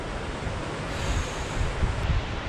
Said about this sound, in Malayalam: വെള്ളം കൂടി തെറിച്ച് വരുന്നുണ്ട്. അത്രക്കും ശക്തിയിലാണ് അടിക്കുന്നത്